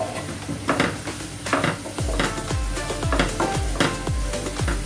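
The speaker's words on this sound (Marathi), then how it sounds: "मिक्स करून घ्यायचं" Green chili thecha with coriander stirred in a pan, with sizzling and repeated clanking scrapes of a utensil against the metal in an uneven rhythm, close and fairly loud, with no voices.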